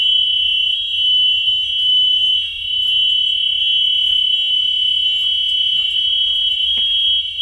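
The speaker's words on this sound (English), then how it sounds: "can hear the buzzer." A school bus buzzer sounds during a pre-trip check, a loud, steady high-pitched drone without a break from start to finish, with no voices.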